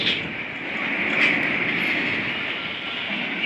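A railway train of petrol tanker wagons rolls past at close range, a steady broad rumble and rushing roar with a faint metallic squeal partway through, no voices.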